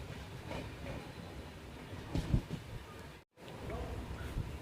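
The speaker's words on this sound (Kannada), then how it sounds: "ನಮ್ಮ ಟ್ರೈನ್ ಎಂಟ್ರಿ ಆಗ್ತಿದೆ 2 ನಿಮಿಷ ಲೇಟಾಗಿ 8:06 ಖಾನಾಪುರ ರೈಲ್ವೆ ಸ್ಟೇಷನ್ಗೆ ಎಂಟ್ರಿ ಆಗ್ತಿದೆ" A train pulls into Khanapur railway station, its low rumble and rolling wheel noise steady and fairly close, with a brief dropout midway and faint voices around.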